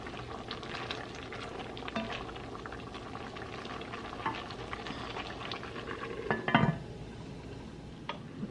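Sorrel purée sauce bubbling at a steady boil in a pot, a continuous close simmering hiss with soft pops and a brief stirring clatter near the end.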